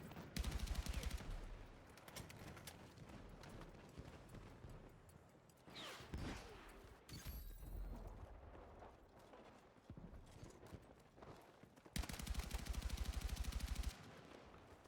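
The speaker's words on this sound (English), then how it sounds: "Robbins open to fire with the DRS" DRS rifle fire in Battlefield 6 during an 8v8 match, rapid rhythmic bursts of close, loud shots in several strings separated by pauses, amid rumbling vehicle and battle noise.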